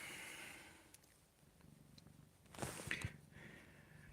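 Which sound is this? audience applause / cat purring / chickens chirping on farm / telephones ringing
cat purring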